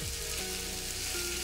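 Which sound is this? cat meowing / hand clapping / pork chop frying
pork chop frying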